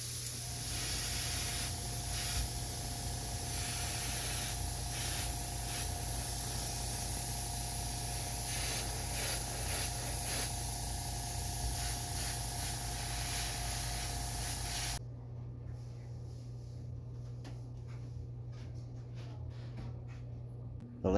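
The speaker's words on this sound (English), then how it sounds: "Then I finish it off by spraying the top, the back, and the front orange and leaving the bottom white." Aerosol spray paint hisses steadily onto a wooden minnow fishing lure, coating it orange in one long continuous burst that cuts off abruptly, leaving a quieter background.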